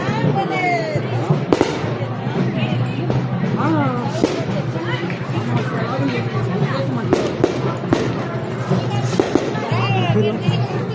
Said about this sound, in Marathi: लय गर्दी